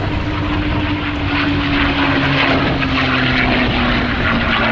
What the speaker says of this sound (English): So whilst we wait for the P-51 to arrive, well, looks like she has arrived.